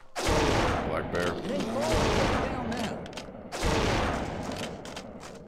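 Gunfire booms out twice in Cabela's Alaskan Adventures during a black bear hunt, each blast followed by a long rolling decay, with a game soundtrack and faint voice-like tones running beneath.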